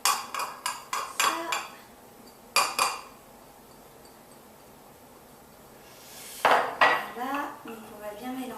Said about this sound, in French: donc on va bien mélanger.